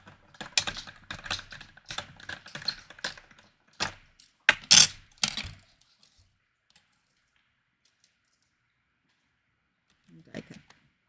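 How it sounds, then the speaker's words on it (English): A die cutting machine runs pumpkin spice paper in white and orange through twice, giving about five seconds of dense, rapid mechanical clicking and rattling bursts, then quiet, with a faint brief noise near the end. "So we're going to die cut that twice."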